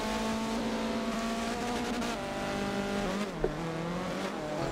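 A Mazda MX-5 Cup race car drifting at the finish of a race at Silverstone National, its engine held in a high, wavering rev that drops near the end, heard at a moderate distance.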